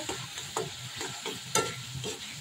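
Small chopped prawns stir-fried with pointed gourd in a hot pan, a steady sizzle broken by several sharp scraping stirs at intervals, close and fairly loud, with no talking.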